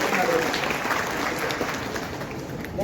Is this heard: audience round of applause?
yes